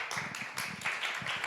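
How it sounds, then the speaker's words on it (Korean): Small audience at a leadership talk clapping in a brief, fairly even burst of claps that swells slightly midway, close and moderately loud with no talk over it. "박수 부탁드리겠습니다"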